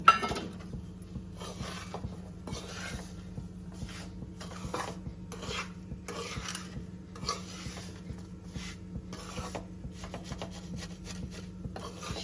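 Sugar, cashews and almonds are stirred together by hand for sabudana ladoo, giving a steady, continuous gritty scraping and rubbing with repeated strokes and no talking.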